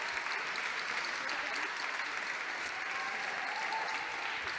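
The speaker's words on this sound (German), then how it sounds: "Euer Applaus!" An audience applauds at the final of the EINE WELT Song Contest 2023, a dense, steady wash of clapping that holds at an even level throughout without voices rising above it.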